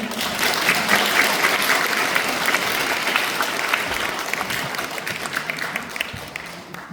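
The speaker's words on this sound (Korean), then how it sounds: "박수 좀 부탁드려요" A Won Buddhist temple congregation claps together during a service, a steady, full burst of applause that holds for several seconds before thinning out near the end.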